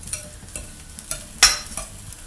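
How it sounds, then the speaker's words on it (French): Stuffed mushrooms and garlic fry in a pan with a close, crackling sizzle, broken by repeated scraping stirs and one sharp clatter midway. "je vais retourner mes champignons parce que je suis en train de voir que mon ail il est en train de cramer légèrement"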